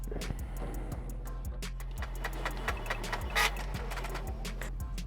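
Canon Pixma MG7150 inkjet printer printing a nozzle check pattern, a steady mechanical hum with regular ticking and clicking as the print head shuttles back and forth, close and moderately quiet, with no talk.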